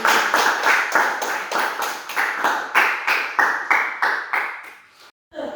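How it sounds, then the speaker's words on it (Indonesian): A junior high school class in Lembean Timur claps in unison, a rhythmic patterned clap of repeated bursts with short pauses, fairly close and loud, ending abruptly in a brief silence and then one last sound. "Tepuk tangan untuk hari ini."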